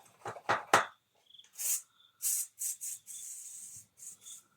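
A hand spray bottle mists water onto seedlings, giving a series of short, crisp hissing spritzes in irregular bursts, one longer puff among them, close and alone with quiet gaps between.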